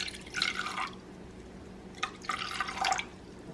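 Ice-cold water splashes and streams into a bowl in two short bursts with a pause between, fairly close and moderately quiet.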